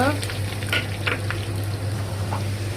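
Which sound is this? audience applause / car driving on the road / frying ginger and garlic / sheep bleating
frying ginger and garlic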